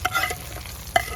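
Hot tempering of mustard seeds and chillies hits a pot of curry, giving short bright sizzling bursts at the start and again near the end, with stirring clatter between, close and moderately loud, no talk.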